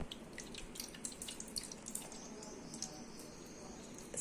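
Water trickles and drips into a plastic ice cube tray as it is filled, quiet and close, with small irregular splashes and no talk.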